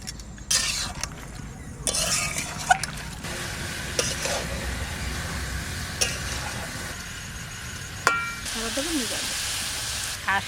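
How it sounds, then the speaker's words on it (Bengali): Duck meat curry cooked with papaya sizzles in oil in a village-style kadai, a quiet continuous sizzle broken by scraping and clattering as the pieces are stirred. "এবার কষাবো, ভালো করে কষাই নেব।"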